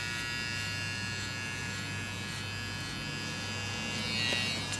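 An electric hair clipper buzzes steadily and close while cutting a skin fade, a continuous even drone with slight variations as the blade corners work into the hair, with no voices.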